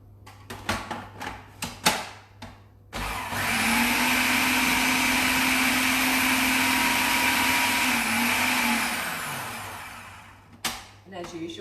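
A blender purees cooked kale and apple with cinnamon, starting abruptly after a few knocks and clatters and running as a loud, steady whir for about seven seconds before cutting off, followed by a few more clunks.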